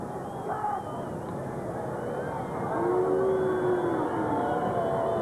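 A quarter-time siren sounds at a 1999 Australian football match between the Adelaide Crows and the Melbourne Demons, a steady tone rising out of a loud, continuous stadium crowd roar.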